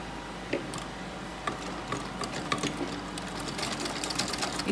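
A sewing machine runs steadily while sewing an invisible zipper onto fabric, a continuous mechanical whir with faint periodic ticks, heard up close and alone.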